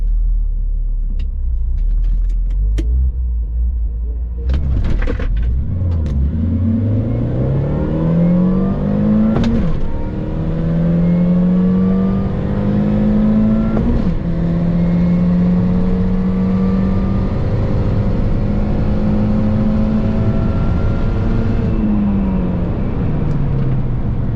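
Mini cars race down a drag strip, engines rumbling low then revving hard through rising gear sweeps, loud and close, with a brief mechanical clatter early before sustained acceleration tones build and fade.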